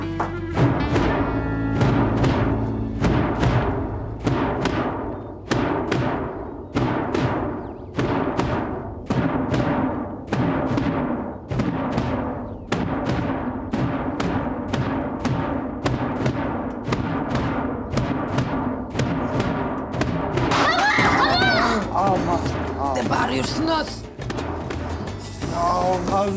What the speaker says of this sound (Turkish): Toy davuludur bu, toy.